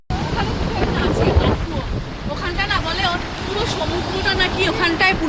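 Wind blowing by the sea at Rameshwaram, a loud, rushing gust buffeting close by, with surf-like wash beneath and people talking over it.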